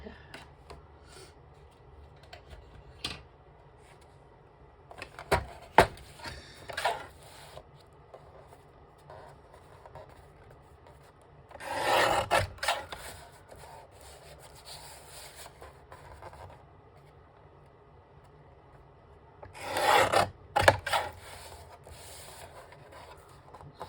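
Filing or rasping on a small figure to trim its shoulder, heard as two distinct bursts of scraping strokes, one around the middle and another near the end, separated by quieter handling and faint rubbing.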